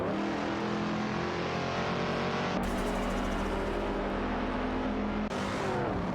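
Video-game race cars, an Alfa Romeo Giulia TZ2 and a 1965 Pontiac GTO, roar at high revs in an AI race, engines droning steadily with abrupt shifts in pitch as the camera view changes.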